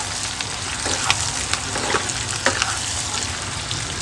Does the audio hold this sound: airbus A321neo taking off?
no